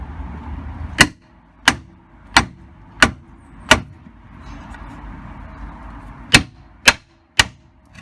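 An anti-roll bar bush on a VW T4 van is knocked into place with a beveled 3x2 timber block and a hammer. Eight loud, sharp, close blows ring out at irregular intervals, with quiet pauses in between.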